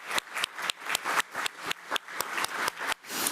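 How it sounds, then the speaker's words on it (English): A round of applause at a school board meeting honoring a scholarship winner: steady, moderately close clapping from a small crowd, sustained and even throughout without talk. "let's give him another round of applause"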